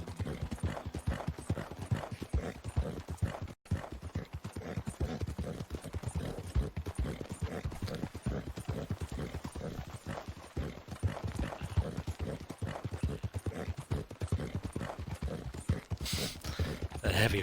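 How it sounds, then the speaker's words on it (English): Video game horse galloping in a steady, rapid clip-clop of hooves that runs continuously for many seconds at close range, with heavy breathing and faint game sounds behind it. "That heavy horse breathing"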